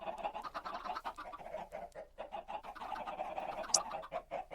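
Several chickens cluck in the video game Minecraft, a busy overlapping run of short clucks and squawks close by, continuous throughout with no talking.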